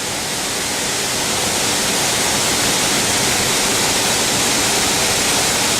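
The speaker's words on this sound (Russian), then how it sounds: "Водопад на острове Кокут." A multi-level waterfall on Kokut island roars close and loud, a continuous broadband rush of falling water with no breaks and no voices.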